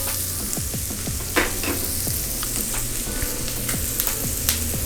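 Aromatics frying for a lamb stir fry, a steady close crackling sizzle in the pan with occasional louder pops and stirring clatter, no talking.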